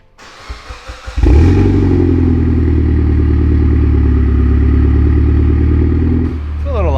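A freshly built, tuned car engine cranks a few times, then fires up loudly and settles into a steady, rough, throaty idle close by, dropping slightly toward the end.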